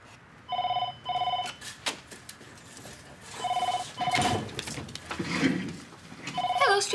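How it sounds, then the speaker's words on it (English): Old-style telephone bell ringing in bursts of two rings, repeating about three times, fairly loud and close in a small office, with people talking between and over the rings. "Just answer the phone"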